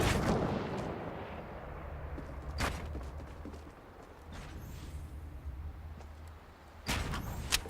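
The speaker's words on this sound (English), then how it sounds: "Hear the sniper shots." Sniper rifle shots in the video game Fortnite, about three sharp booming cracks spread out over several seconds against a low, rumbling ambient backdrop.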